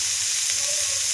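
Cauliflower and potato pieces frying in a pan, a steady close sizzle and hiss running the whole time with no voices.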